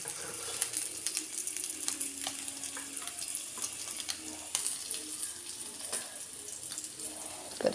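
Curry leaves and chili powder fry in a pan for a theeyal curry, giving a continuous soft sizzle with scattered crackles and light stirring clicks at close range.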